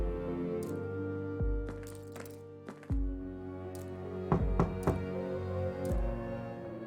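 Knocking on a locked apartment door in the Whispers of a Machine video game: several separate knocks, some in quick pairs, moderately loud over a steady musical background with no talk.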